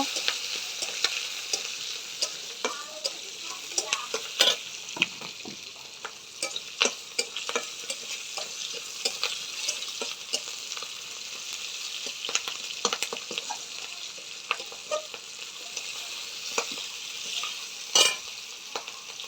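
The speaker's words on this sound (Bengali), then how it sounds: "রসুনগুলো দিয়ে দেবো কাঁচা লঙ্কা চিরা, ভালো করে ভাজি করে নেব।" Garlic and slit green chillies fry in a pan with a constant sizzle, broken by scattered sharp clinks and scrapes of a spatula stirring them, close and without any talk.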